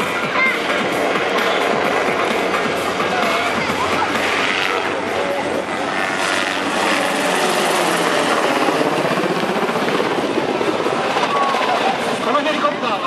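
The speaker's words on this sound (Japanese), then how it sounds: "第15飛行隊が装備する UH-60JA 通称ブラックホークです。" A UH-60JA Black Hawk military helicopter at a ground forces training display in Naha gives a continuous loud rotor and engine roar that stays steady throughout, with a crowd and announcements faintly mixed in.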